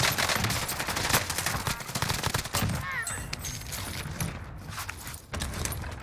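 An SA87 light machine gun fires in the Warzone video game, a dense, loud stream of rapid shots that fills the whole stretch, with the firing thinning briefly partway through before resuming.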